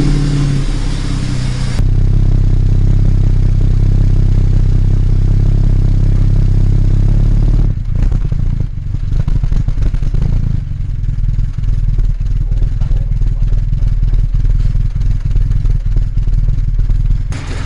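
Classic Jaguar Mk2 engine idling fast on an electric choke after a cold start, a loud steady low rumble that turns rougher and more uneven partway through, running alone with no voices.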